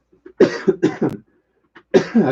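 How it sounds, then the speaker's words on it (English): A burst of several sharp coughs in quick succession, a short pause, then one more cough, close and loud. "Cover your cough."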